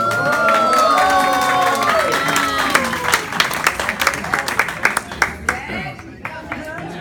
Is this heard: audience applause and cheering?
yes